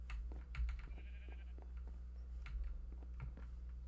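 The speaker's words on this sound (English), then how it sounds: "Somehow this red sheep still exists." A sheep in the Minecraft video game bleats a few times in short, faint calls over a quiet, steady background hum.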